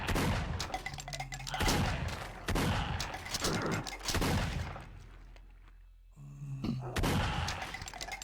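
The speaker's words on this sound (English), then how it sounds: "then there's a shotgun shooting off its load" Repeated shotgun blasts from a shotgun zombie in the horror game Splatterhouse, several loud booming shots in an uneven rhythm with crashing game noise between them.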